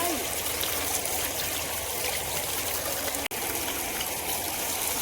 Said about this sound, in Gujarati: અહીંયા એક સરસ મજાની નદી પણ છે.